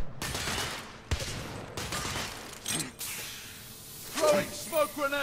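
Gunfire from an enemy in The Order: 1886, scattered loud bursts and sharp cracks separated by short gaps, mixed with mechanical clatter and a whip-like snap toward the end.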